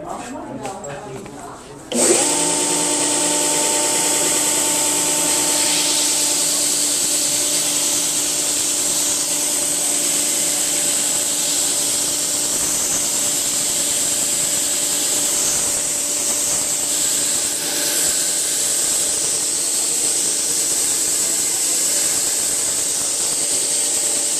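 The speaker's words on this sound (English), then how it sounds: "you're going to sand off the excess down to the lines that you made earlier" A power sander whirs loudly and steadily, sanding excess wood off a cheese knife holder, a continuous grinding hum with a high whine that runs unbroken after a brief start.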